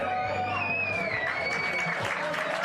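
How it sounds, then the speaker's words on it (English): A vocal cricket crowd in Darwin claps and cheers steadily, a dense wash of applause with whistles and shouts, loud and close throughout. "this vocal crowd cheering every run scored"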